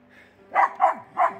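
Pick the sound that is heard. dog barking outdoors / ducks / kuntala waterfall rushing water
dog barking outdoors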